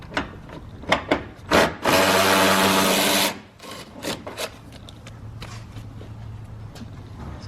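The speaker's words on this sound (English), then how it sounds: "we got one more bolt right here to undo" A power tool undoes a bolt on a 2013-2018 Toyota RAV4 headlight assembly in one loud, steady burst of about a second and a half, with scattered clicks and knocks of handling before and after.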